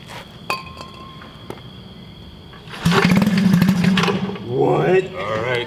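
A turbocharged rotary engine swapped into an ATV cranks and starts up, a loud rough roar rising suddenly after some clinking and handling noises, with people talking nearby.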